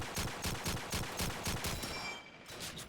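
Rapid regular bursts of gunfire from shotgun and M1 rifle in Call of Duty 2 during a tournament match, about a dozen evenly spaced shots that stop abruptly, loud and close.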